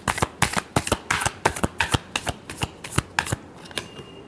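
Tarot cards being shuffled by hand, a close run of crisp, rhythmic riffling slaps repeating roughly every quarter second, loud and alone.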